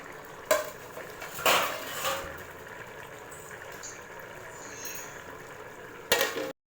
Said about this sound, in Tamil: இப்போ அப்படியே பிளேட் வச்சு க்ளோஸ் பண்ணி